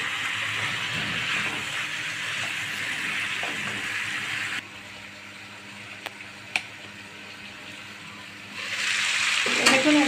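Turnips fry in hot spiced oil in a pan, giving a steady loud sizzle. It drops quieter midway, with a few sharp clinks, then surges again near the end.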